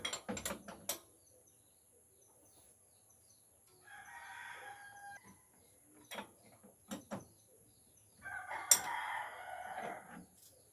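A Suzuki F6A engine in a Multicab is turned over by hand to line up the timing. Brief bursts of mechanical clicking come between quiet gaps, and a rooster crows in the background.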